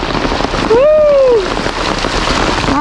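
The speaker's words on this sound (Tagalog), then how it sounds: "mga napakalakas ng ulan, no?" Heavy rain falls steadily outdoors, a continuous broadband wash with splashing on surfaces, while a voice briefly calls out over it.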